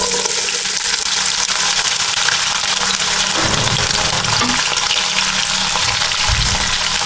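Chopped onions sizzle loudly in about a cup of hot oil for a fish salan, a steady, dense frying hiss with occasional stirring clatter close by throughout.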